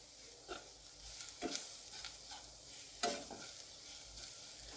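Besan frying in a pan with chutney, salt and turmeric crackles with a low, quiet sizzle, broken by a few scraping stirs of the spoon.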